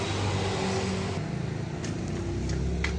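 A Suzuki Carry Futura injection engine, just fitted with a new timing belt, cranks over with a rhythmic churning and engine rumble but does not catch, heard up close and fairly quiet.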